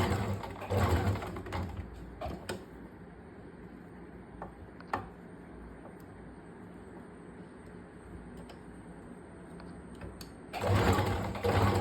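Sewing machine stitching a princess cut blouse: a soft, steady mechanical whir runs low through the middle, framed by louder rustling fabric handling at the start and end, with occasional sharp ticks.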